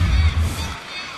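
A baseball stadium crowd at a Houston at San Diego game bursts into loud cheering and applause after a catch on a foul ball. It is a short, dense swell of voices that fades quickly.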